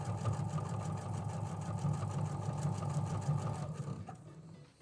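Sewing machine basting a T-shirt table runner, a steady close motor whir with rapid needle ticking that fades out near the end.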